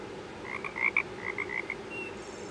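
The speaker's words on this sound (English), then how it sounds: "I see a green frog looking at me." A frog gives a quick series of about nine short, nasal croaks in two bursts, close and clear over a quiet background with no talking.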